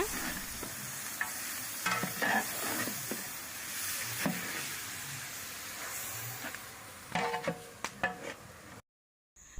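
Mutton with onions and tomatoes sizzles and crackles in a hot pan while a utensil scrapes and stirs at intervals, a low steady frying hiss throughout.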